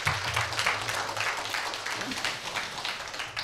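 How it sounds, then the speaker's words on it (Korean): A lecture audience applauds at a humanities forum, giving a fairly faint, steady patter of clapping that runs for a few seconds with a low rumble underneath. "여러분 큰 격려의 박수 한번 부탁을 드립니다."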